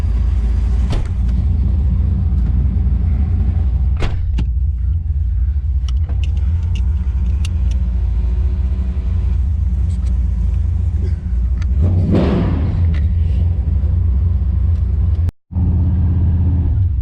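A 1973 Dodge Dart four-door with a 496 big block engine and a loose torque converter rumbles loudly from inside during a drive, with a deep steady engine drone and a surge of revving partway through.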